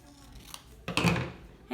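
Scissors cut out the nose of a paper mask, one short burst of crisp snipping and paper rustle after a quiet moment, close by.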